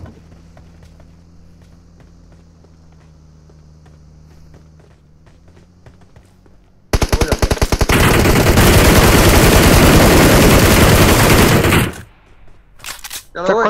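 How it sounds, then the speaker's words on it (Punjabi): Automatic gunfire from the battle-royale video game PUBG: after quiet in-game ambience with faint footsteps, a loud, dense burst of rapid shots runs for about five seconds, then stops abruptly and is followed by a few scattered sounds. "ਫਾਇਰਿੰਗ ਬਾਟ ਬਾਟ ਬਾਟ ਫਾਇਰਿੰਗ ਕਰ"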